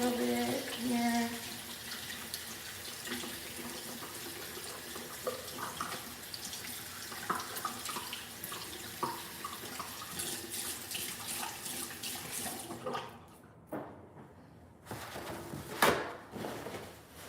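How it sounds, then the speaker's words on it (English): Hands washed under a running bathroom tap, a faint steady stream of water with brief clatters and handling noises, stopping briefly before a last splash. "I'm just gonna wash my hands a little bit here."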